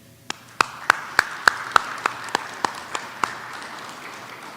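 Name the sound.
applause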